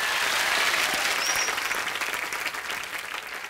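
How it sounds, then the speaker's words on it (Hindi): Studio audience applause on a television comedy show, dense steady clapping from a large crowd that holds strong, then eases off gradually toward the end. "तालियां"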